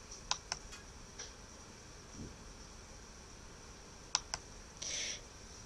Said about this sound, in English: Now you can type in your username that you used before